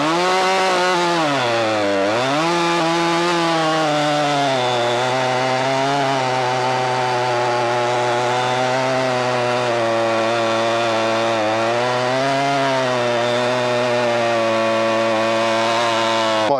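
Chainsaw making a test cut into a giant oak butt, probably a Husqvarna 592xp or Stihl MS 661, its engine roaring steadily and loud throughout, pitch dipping briefly under load then holding a strong continuous whine.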